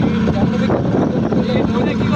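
A steady low drone from a trawler's engine on a river crossing to the Daulatdia ghat, continuous and close, with wind and voices talking over it.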